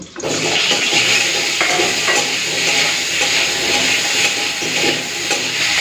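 Potato, fenugreek and bottle gourd hit hot oil already fried with cumin, giving a loud, steady hiss and crackle of sizzling that holds evenly throughout, with faint stirring clinks.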